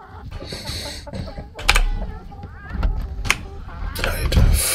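Chickens cluck in the survival game Atlas, short fowl calls scattered among game noises and a few thumps, with a person's voice faintly present.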